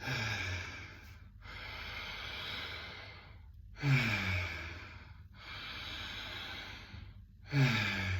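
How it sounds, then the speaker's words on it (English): Deep, connected breathwork into the chest: long drawn inhales alternate with quick releasing exhales in a steady cycle, each breath a couple of seconds long and close to the microphone, with no talking. "when you breathe here, follow the breath up into the chest and really open and expand"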